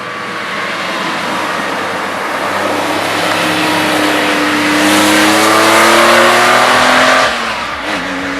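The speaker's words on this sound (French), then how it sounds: "C'est un moteur très vif, très intéressant." A Porsche 911 Carrera 3.0 flat-six revs up loudly and close by, its pitch climbing steadily over several seconds before easing off, heard alone without talk.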